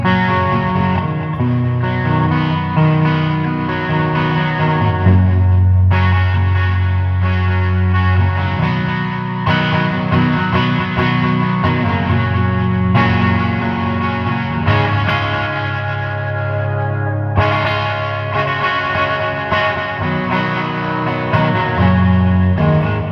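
Electric guitar through a Marshall JTM45 amp with a little slapback delay, loud, steady overdriven chords and notes ringing continuously with no talking.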